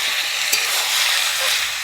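Spice masala with tomato and whole green chillies sizzles and fries in a pan for chicken biryani, a steady close hiss with faint stirring scrapes.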